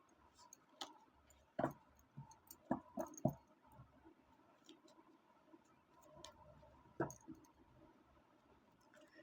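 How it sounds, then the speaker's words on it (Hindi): A deck of tarot cards being shuffled, giving soft, irregular clicks and taps close by, with brief bursts of flicking cards and quiet pauses between them and no talking. "मैं इसको ठीक से शफल कर लेती हूँ"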